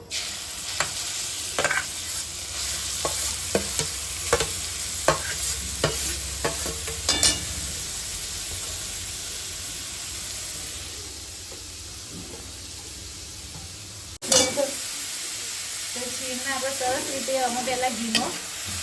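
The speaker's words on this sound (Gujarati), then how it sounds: "હવે આપણે પહેલાં ગાજરના છીણના શેકી દઈશું ઘીમાં" Grated carrot for carrot halwa is stirred and roasted in ghee in a kadhai: rhythmic scraping strokes over a constant close sizzle, then a quieter stretch of frying, a sudden clunk, and more stirring.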